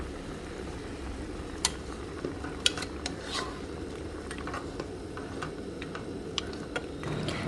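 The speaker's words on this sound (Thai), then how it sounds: "ก็หมั่นมาเปิดแล้วก็ คนคนซี่โครงหมูค่ะ" Quiet scraping and clinking of a utensil stirring pork ribs in a pot, with occasional sharp taps against the metal over a low background hiss.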